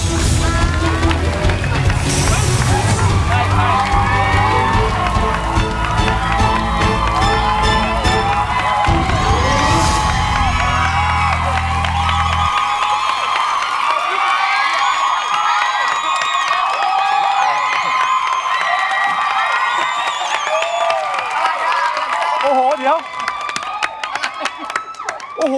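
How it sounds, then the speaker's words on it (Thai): A loud game-show studio crowd screams and cheers continuously during a standing welcome, with shrill voices and whoops over music, the din fading slightly toward the end. "นี่เสียงกรี๊ดทำไมดังขนาดนี้ ทุกคนยืนต้อนรับกันเลยทีเดียว"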